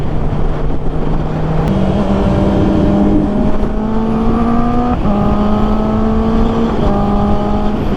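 A big motorcycle passes on a road through Botolan, Zambales, heard from another rider's bike. A loud, steady engine drone climbs in pitch through several gear changes over the constant rush of wind.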